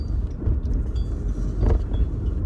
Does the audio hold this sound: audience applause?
no